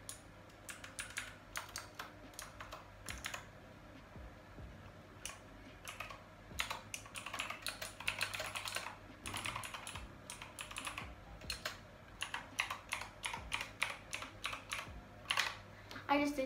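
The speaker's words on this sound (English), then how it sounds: "I bet you guys are gonna hear my keyboard a lot." Rapid clicking keystrokes on a Razer BlackWidow V3 mechanical keyboard, close and continuous with brief pauses, layered over a faint low hum.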